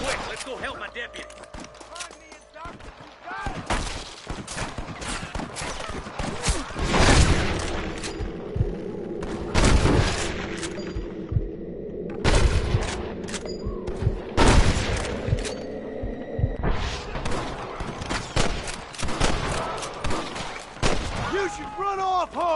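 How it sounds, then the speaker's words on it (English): Gunfire in the 2010 video game Red Dead Redemption: a dense shootout of sharp rifle and pistol cracks, some in rapid volleys and some single, loud and close, mixed with shouted game voices. "Gunshots."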